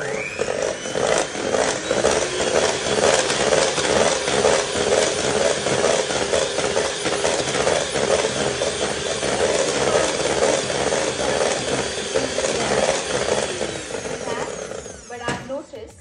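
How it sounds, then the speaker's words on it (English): An electric beater whirs steadily while whipping cream for a Swiss roll coffee cake, a loud continuous mechanical buzz with a rattling texture that runs for about fifteen seconds before cutting off abruptly at the end. "they can't trust this electric beater"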